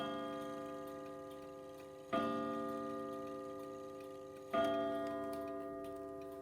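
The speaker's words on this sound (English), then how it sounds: "That clock is sitting behind my iPad. So it probably sounded pretty loud." A clock ticks steadily behind an iPad, loud and close, with two sharper chime-like strikes ringing out and decaying over a sustained tonal hum.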